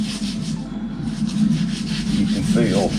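A buffing pad rubs in a continuous, even hiss across a narrowboat's painted surface, worked by hand in small sections, close and steady with a slight rhythmic swell.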